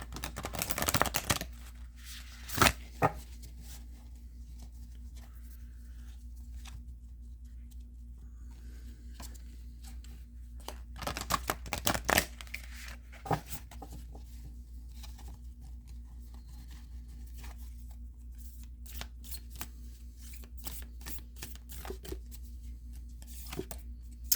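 Oracle cards shuffled on a tabletop during a reading, quiet riffling bursts and taps spread across a long stretch with near-silent gaps between, close and soft with no talk.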